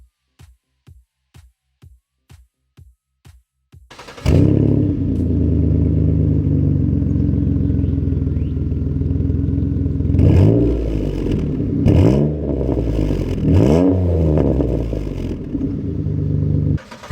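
Purple Pontiac G6 fitted with a cold air intake: a few short, evenly spaced clicks, then the engine bursts into a loud, close, sustained rev with rising and falling throttle swells and a breathy intake whoosh, no talking.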